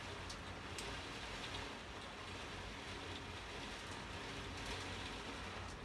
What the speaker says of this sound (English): Dang, it's raining hard.